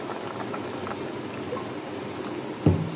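Hilsa fish curry (tel jhal) simmering in a pan as it boils, giving a steady low bubbling hiss throughout, with one brief louder knock near the end. No one speaks.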